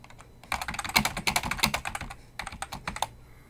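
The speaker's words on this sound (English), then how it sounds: "if I just start typing" Rapid keystrokes on a computer keyboard while entering text on a wiki page, dense irregular clicking bursts with a brief pause near the end, close and fairly quiet.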